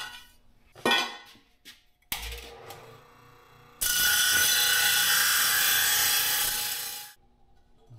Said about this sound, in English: I'm just going to clean that up on the disc sander